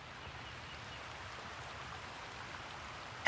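Rain falls steadily outdoors as a soft continuous hiss and patter, even and unchanging throughout, with a brief sharp sound at the very end.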